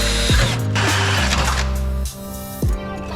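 Power tool bolting a suspension part into the side of a mount, giving a loud mechanical ratcheting whir with a few short bursts and pauses across the clip.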